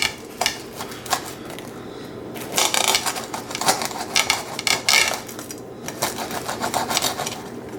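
A bread knife saws through a loaf of homemade no-measure bread in several short bursts of rasping, scraping strokes, close and fairly loud, with pauses between.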